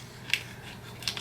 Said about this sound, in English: Let me get my handy dandy scissors here.